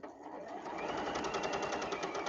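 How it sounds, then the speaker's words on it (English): A sewing machine stitches steadily from dot to dot for a few seconds, its motor whirring with a rapid, even needle rhythm, close and continuous with no talk. "So back to the sewing machine, needle in that dot,"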